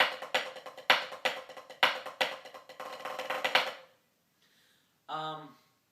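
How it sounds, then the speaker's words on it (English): Drumming from the Apollo cadence: sharp, close accented hits lead into a dense buzz roll that swells in loudness before cutting off, followed after a pause by a brief spoken voice. "you're going to actually buzz roll and start from a piano"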